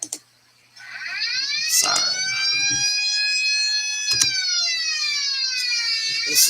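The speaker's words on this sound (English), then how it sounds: "Siren." An Italian police car siren in the BeamNG.drive driving game wails loudly and steadily in rising and falling tones, starting after a short silence and running continuously with a few sharp clicks over it.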